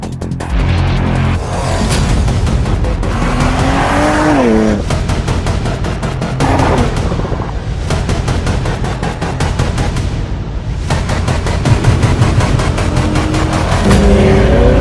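A Porsche Macan GTS SUV pulls away and drives on in India, its engine rising in pitch as it accelerates through the gears, loud and close throughout with dense road and engine noise.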